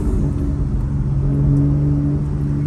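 A tuned car's engine hums steadily at a constant, loud idle-like drone, close up with a smooth mechanical tone and no clear pops or rev changes.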